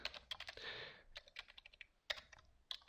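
Computer keyboard typing an HTML heading, a run of close, quick key clicks with a brief pause and a few final taps, fairly quiet.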